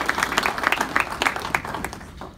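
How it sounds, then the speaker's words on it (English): Scattered applause from a modest audience, individual claps audible in an uneven patter that tapers off. "there was a round of applause for our sponsors"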